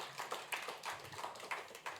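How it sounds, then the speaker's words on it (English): Faint, scattered clapping from a small audience at an innovation showcase event, a handful of irregular claps spread across a couple of seconds rather than a full ovation. "Another round of applause for Bio."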